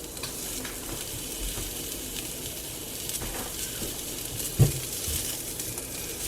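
Cauliflower steaks frying in a hot pan give a steady, close sizzle with soft crackles and one brief louder pop, heard alone without talk.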